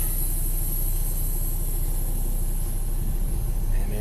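A truck engine idles in low gear with the parking brake set before unhooking from a trailer, giving a steady, continuous low rumble with no breaks.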